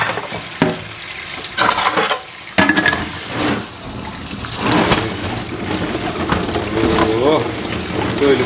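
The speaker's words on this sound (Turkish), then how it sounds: "Güzel büyük bir kabın içerisinde bunu güzelce yıkayacağız." Cucumbers for pickling are swished and rubbed by hand in water in a large bowl, giving close, irregular sloshing and splashing with brief rinsing bursts, and a voice talks at times over the sounds.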